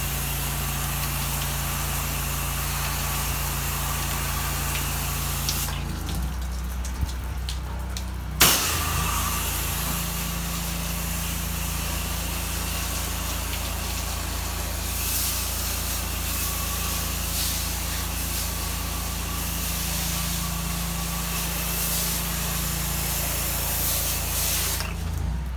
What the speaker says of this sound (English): this is the rinsing phase. We're just getting all the bleach off.